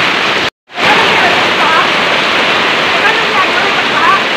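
Floodwater rushes loud and steady on an island, a dense close roar that holds throughout after a brief cut near the start.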